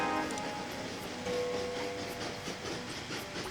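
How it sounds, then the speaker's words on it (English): A train rolls along in the Train Valley video game, a steady mechanical hiss and rumble with a faint clattering texture that continues evenly throughout, with no talking. "Send this train out just because I feel like it."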